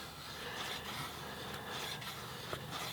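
A Camillus Carnivore X knife with a 12-inch stainless steel blade shaves feather sticks from wood, making soft, repeated rasping scrapes at close range, faint and without talk.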